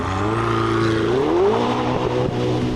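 A 2016 Ferrari 488 GTB engine revs loudly and continuously, its pitch climbing steadily then settling, with no talking.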